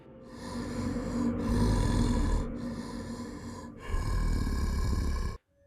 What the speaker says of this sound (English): The hoarse breathing.